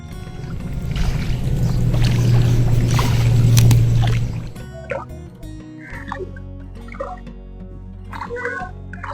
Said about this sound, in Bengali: পানির ওপর নৌকাতে চড়ছি